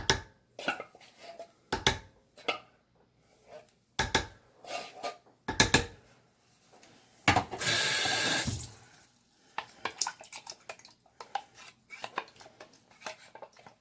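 Kitchen tap water gushes for about a second while soup cans are rinsed, framed by sharp metallic clanks and knocks of cans and utensils before and after, with no talk.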